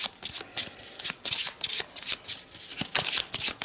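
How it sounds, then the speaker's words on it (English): Red board game cards for an Arkham Horror session are shuffled up close: a rapid run of crisp riffling bursts and soft flutters repeating in quick rhythm, with no talking. "So first I'm gonna shuffle the red cards."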